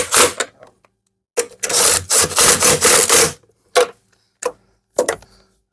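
A 17 mm wrench snugging up bolts on a ski, close and loud: a burst of rapid ratcheting clicks and scraping, then a few short separate clicks and scrapes with silent gaps between them.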